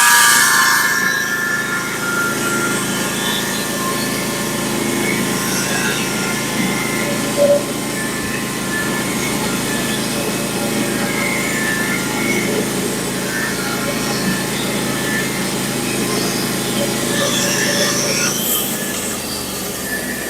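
A sawmill cutting a log into a cant, heard as a steady, loud mechanical whine and grinding hum that runs unbroken for the whole stretch, with no talking.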